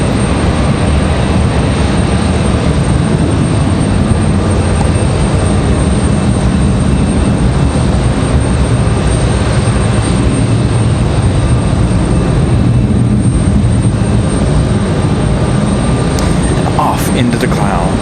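A jet airliner taking off from Raleigh-Durham airport gives a loud, steady, unbroken engine roar throughout, with people talking beneath the noise.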